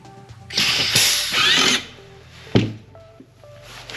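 An air-powered pneumatic rivnut tool, fed at about 80 PSI, sets a rivnut with a close burst of hissing and mechanical whirring, a sharp clunk, then quieter clicks, with no talk.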